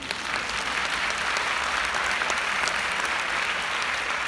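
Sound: audience applause at a congress

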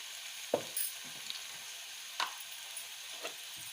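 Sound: onions and ginger-garlic paste frying in a pan

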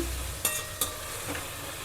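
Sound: frying tomatoes in a pan for coriander dal sambar

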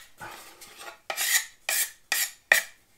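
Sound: scraping an old wooden cutting board

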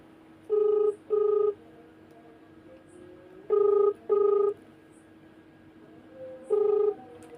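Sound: telephone call being dialed and ringing

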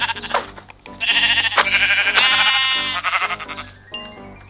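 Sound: sheep bleating in video game Minecraft

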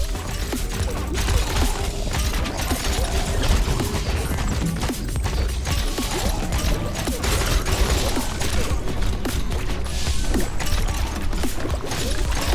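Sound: crossbow harpoons smashing things, video game

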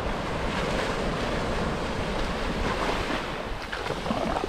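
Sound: ocean waves on a Gulf of Mexico beach

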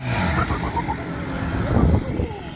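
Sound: single-turbo BMW car accelerating in street race

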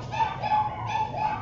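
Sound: dogs barking in the background

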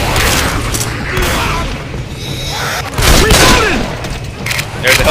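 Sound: gunfire in a video game (I Hate Mountains)

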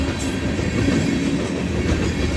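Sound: CP freight train 313 rolling south

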